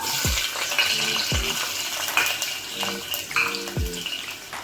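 Two medium onions, coarsely chopped, frying in hot oil for a mutton dish, a loud, close, continuous sizzle with several low thumps and stirring scrapes.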